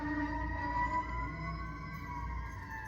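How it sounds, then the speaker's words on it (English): A fire truck siren wails faintly in the distance, a steady rising and falling tone with no voices. "there's a fire truck going by"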